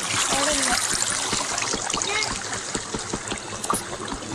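Continuous rushing and splashing water from a waterfall in the video game Minecraft, a steady trickling stream filling the whole stretch with a few brief tonal game sounds on top.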